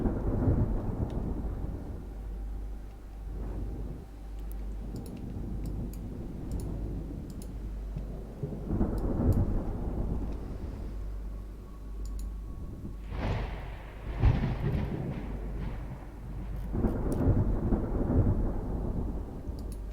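Stormy sea weather in the naval warfare game Ultimate Admiral Dreadnoughts: low rolling thunder rumbles and steady rain, with a few scattered interface clicks, no voices.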